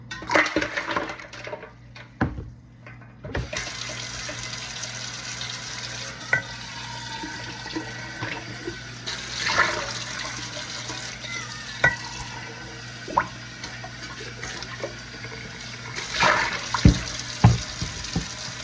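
Water from a kitchen tap runs steadily while something is rinsed out beneath it, a continuous close splashing rush with small clinks and knocks scattered through.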